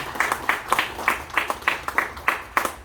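An audience at a scholarship foundation event claps for a chairman after his lecture, with distinct, evenly spaced bursts of clapping in a steady rhythm, moderately close and without talk.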